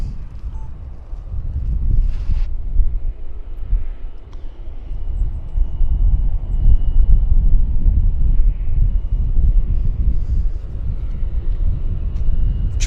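Regional jet moving at Vancouver airport, heard as a steady low roar and rumble carried throughout, fairly close, with wind noise buffeting the microphone.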